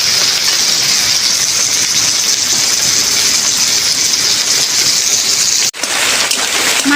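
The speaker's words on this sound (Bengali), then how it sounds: "মাছের মাথাটা আমি ভেজে নিয়েছি" Hilsa fish head frying in hot oil, a loud continuous hissing sizzle close by, broken by a brief drop near the end, with no talking.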